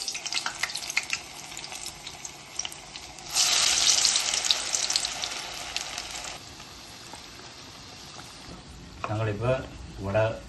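Spinach vadai batter drops into boiling oil and a loud sizzling hiss bursts up, then settles into steady frying bubbles, with a person speaking near the end.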